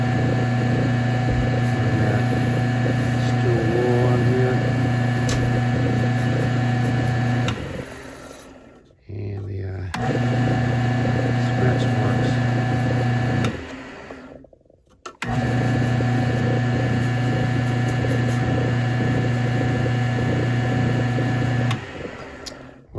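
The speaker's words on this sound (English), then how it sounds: "So the way you clean that up is with some steel wool. Just turn the lathe back on." A wood lathe runs with a steady mechanical whine and hum while steel wool polishes a back scratcher. The motor stops and restarts twice, and no one speaks.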